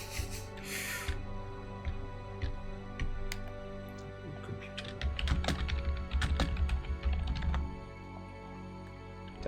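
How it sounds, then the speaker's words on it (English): A computer keyboard's tab key is tapped rapidly and repeatedly, a busy run of sharp close clicks over a low steady hum, growing denser and louder midway. "you can still hear me spamming the tab key on the keyboard"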